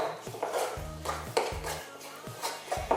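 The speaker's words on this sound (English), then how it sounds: "So just stir that milk in." Milk being stirred into chocolate buttercream in a bowl, with rhythmic scraping and knocking of the utensil against the bowl in several repeated strokes, close and moderately loud.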